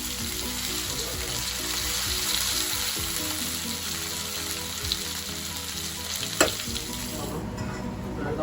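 Fish fries in hot oil for tandoori, a steady, loud sizzle and crackle running throughout, with a brief clatter near the end.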